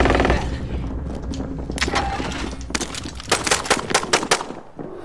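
Enemy gunfire in a console shooter with a UAV and reinforcements, heard as loud bursts of rapid automatic shots and sharp single cracks in a close, busy game mix.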